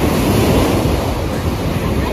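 Ocean waves wash onto a beach at dusk in a steady, loud rush of surf, heavily buffeted by wind across the microphone.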